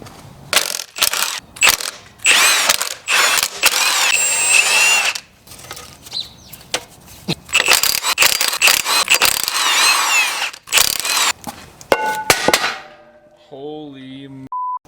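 Ratchets, clanks and whirring power tools work loose the flywheel on a Nissan D21 engine, a loud, busy sequence of metallic clatter and bursts of spinning that ends in quieter tones.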